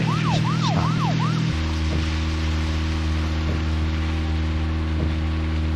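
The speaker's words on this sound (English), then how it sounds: "We can now hear the car." A car drives in the Deadly Premonition video game, opening with a wailing siren sweep over a low engine drone that then settles into a steady, even motor hum with faint periodic thumps.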